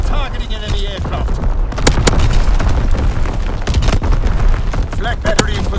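Artillery strike explosions in the Call of Duty WWII video game, repeated loud booms and blasts scattered irregularly, with a radio-style voice and gunfire mixed in.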